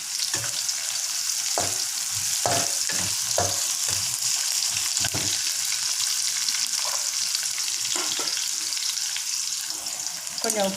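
Green chili and garlic frying in a pan for a stir-fried raw jackfruit dish, a continuous bright sizzle broken by several sharp spatula scrapes and stirs, close and fairly loud.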